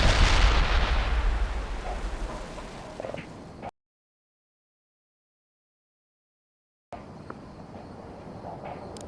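Artillery firing in the war game World in Conflict: a heavy booming blast that slowly decays into rumble, cut to silence, then a quieter rumbling tail with scattered distant thumps.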